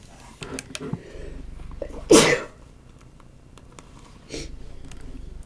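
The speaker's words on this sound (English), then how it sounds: "I'm going to sneeze" A single sharp sneeze bursts out midway, loud and close, set between quieter stretches of background noise.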